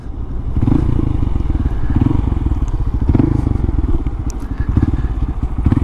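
A Honda Grom motorcycle engine buzzes loud and close while riding, rapping hard in repeated surges as the revs climb to the limiter and fall back.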